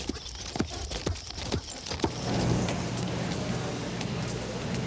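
Morgan horse hooves clip-clop in a steady, close walking rhythm on a hard surface in Vermont, then fade under a continuous rushing background noise.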